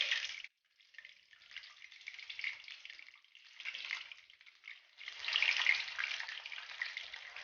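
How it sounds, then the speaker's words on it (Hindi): Paneer pieces dropped into hot oil sizzle with a bright, hissing fry that starts after a short pause, swells and fades, then flares up louder near the end. "अब हम इसमें पनीर फ्राई करने के लिए डालेंगे।"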